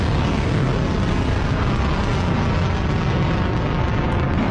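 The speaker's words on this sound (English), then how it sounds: "Ipinakita ng Iran ang aktual na video ng kanilang paglunsad ng mga ballistic missile." Iranian ballistic missile launch: a continuous, dense, loud rocket roar with deep rumbling and no breaks, steady throughout.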